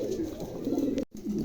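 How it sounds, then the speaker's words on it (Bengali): A pair of Lahori pigeons coos nearby, low, soft, throaty murmurs running continuously with a brief break near the end. "চমৎকার এক জোড়া কবুতর, কারো ভালো লাগলে অবশ্যই সংগ্রহ করতে পারেন"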